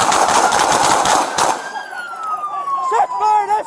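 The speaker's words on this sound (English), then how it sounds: "Shots fired!" Rapid bursts of gunfire during a police shootout between LAPD officers and a reckless hit-and-run driver, dense and loud for over a second, then a police siren wails and falls in pitch as shouting carries on.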